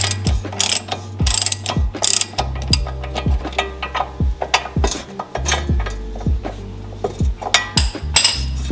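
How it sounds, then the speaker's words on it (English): A ratchet wrench turns a tight pinch bolt on new coilovers for an Audi S4. It makes repeated, close, sharp clicking bursts in uneven strokes with short pauses between them. "And I'm still turning this pinch bolt."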